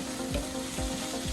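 Onions, ginger and garlic sautéing over a medium flame in a pan, a steady close sizzle with a few soft stirring scrapes.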